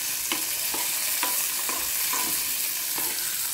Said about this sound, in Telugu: అందుకని పప్పు కొంచెం ఫ్రై కావాలి